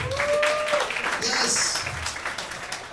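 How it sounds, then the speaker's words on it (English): Comedy club crowd clapping at a stand-up show, a scattered, fairly faint patter of hands mixed with crowd murmur and voices talking over it, with a brief whistle-like tone early on. "Clap if you believe in that shit."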